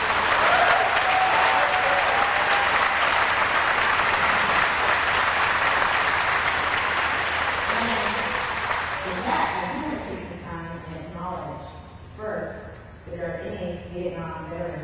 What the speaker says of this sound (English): I want to hear you give the biggest applause